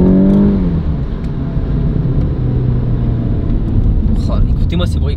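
A Golf 7 GTI TCR being driven in town, its engine rumbling steadily with a brief rev at the start, loud and close with a voice speaking over it.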